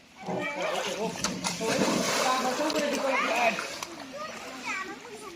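Water splashing in a resort swimming pool during a father's swimming lessons for two girls, with sloshing splashes under children's voices and chatter nearby.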